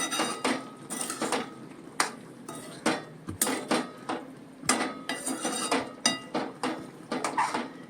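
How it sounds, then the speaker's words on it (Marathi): A spoon gently stirs a pot of pointed gourd and field bean curry, giving repeated soft metallic clinks and scrapes at an irregular, unhurried rhythm, with no talking. "आता आपण हलक्या हाताने ढवळून घेऊया ही."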